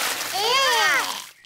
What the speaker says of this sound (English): Daddy Pig has splashed everyone with water.